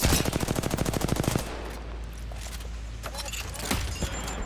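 Rampage light machine gun firing in the Apex Legends video game, a loud rapid burst of evenly spaced shots that stops abruptly, followed by quieter game noise and a few scattered clanks.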